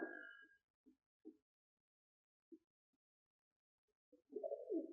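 Pigeons give a few soft, low coos and short guttural notes, scattered across near-silence, ending in a longer rolling coo.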